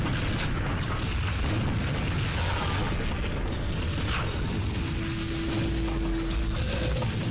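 Grenade launcher explosions in TimeSplitters 2, booming blasts and rumbling debris over a dense, continuous layer of game noise, loud throughout.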